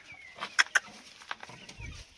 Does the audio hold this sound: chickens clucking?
yes